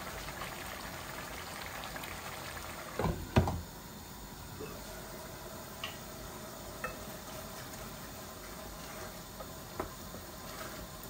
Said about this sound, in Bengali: এই আস্তে আস্তে আমার ভুনা হোক।